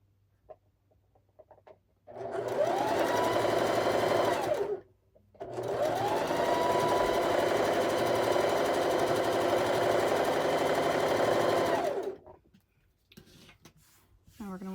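Two close bursts of steady sewing machine whirring, about three seconds and then seven seconds long, as a cat quilt block is stitched across the top, separated by a short pause and followed by quiet.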